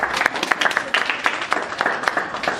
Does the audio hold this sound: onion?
no